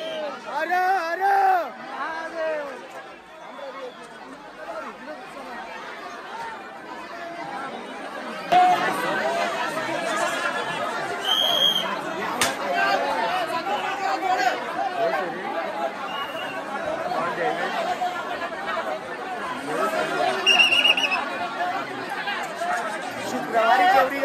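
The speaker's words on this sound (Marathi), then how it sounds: "शुक्रवारी केवढी गर्दी असते काय" Crowd of pilgrims at the Bhimashankar jyotirlinga temple in Maharashtra, chattering in a dense, steady babble of many voices. Nearer individual voices stand out now and then above the hubbub.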